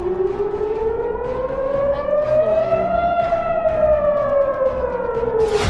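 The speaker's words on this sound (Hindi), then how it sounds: "जब आसमान में ईरान की मिसाइल नजर आती है तो इजराइल में सायरन बजने लगता है।" An air raid siren in Israel warning of incoming missiles wails loud and steady, its tone slowly rising and then falling in a long sweeping howl.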